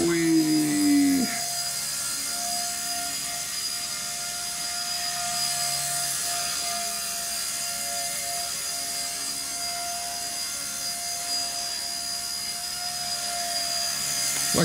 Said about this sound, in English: This thing's such a great helicopter.